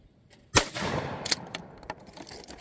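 A Remington 870 Wingmaster 12 gauge shotgun fires one sharp, loud blast at clay targets outdoors, followed by a rolling echo and a few faint clicks and knocks.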